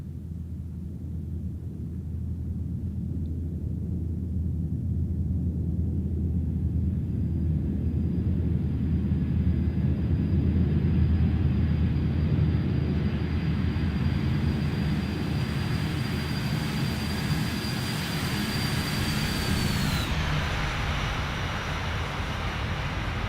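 A BAe 146 airliner lands in X-Plane 11 in a crosswind, with a loud, constant jet rumble and a high engine whine that drops off sharply near the end as power comes back.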